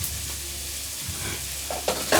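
Chopped onions frying in a pan while being stirred for a liver dish, a soft sizzle under scraping and a few clacks of the spoon near the end, close and short.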